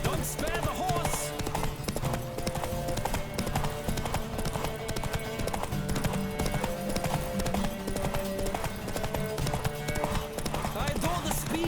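Steady clip-clop of a horse galloping in The Witcher 3: Wild Hunt in a fast rhythm, with music and game effects underneath and a voice talking over it.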